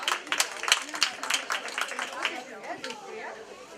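Applause for special-prize winners at a library award ceremony for a teddy bear exhibition in Mińsk Mazowiecki: a burst of close hand clapping that thins out, with children's and adults' chatter mixed through it.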